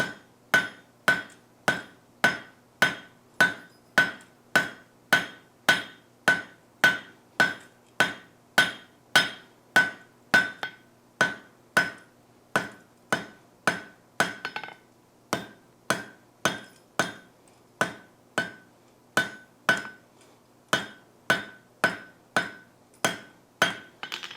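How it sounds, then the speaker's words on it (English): Hot steel bar hammered down to thickness on a forge anvil, a long run of evenly spaced, ringing metallic blows at close range with short pauses, no talk. "I'm actually going to hammer this down to our thickness before I cut it loose from the bar."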